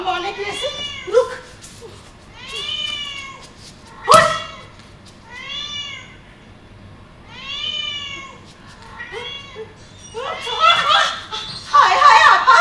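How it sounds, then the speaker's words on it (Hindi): A pestering house cat meows repeatedly, about six drawn-out, rising and falling cries spaced a couple of seconds apart, close and clear. A sharp knock lands midway, and people chuckle and talk near the end. "वो निगोड़ी बिल्ली है ना बड़ा तंग करे है।"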